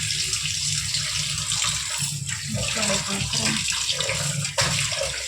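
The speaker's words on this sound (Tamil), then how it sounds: "இட்லி வேக வைக்கிறதுக்கு எவ்வளோமா தண்ணி ஊற்றணும்?" Water pouring steadily into an idli steamer vessel in a home kitchen, a continuous close splashing stream with slight shifts in flow and no talking.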